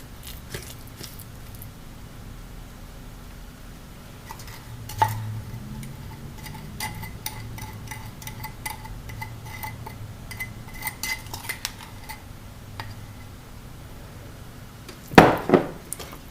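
Candied yam ingredients and molasses are mixed in a bowl, with soft intermittent clinks and scrapes of a utensil, a few sharper taps, and a louder clatter near the end, fairly quiet overall.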